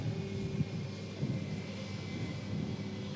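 A Norwegian Boeing 737 MAX airliner taxis to a runway, its jet engines a steady, distant rumbling drone with faint wind noise and no voices.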